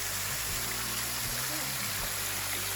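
Creek water flowing steadily with a constant rushing, trickling wash, accompanied by a few faint low thumps.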